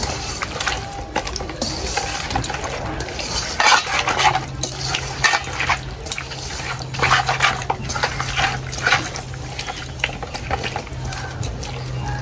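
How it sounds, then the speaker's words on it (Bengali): Raw fish being mixed by hand in a bowl with salt, spices and oil, giving steady wet squishing and rubbing with light clinks against the bowl, continuous and close, with no talking. "এখন মাছের সাথে ভালো করে মিশিয়ে নেব।"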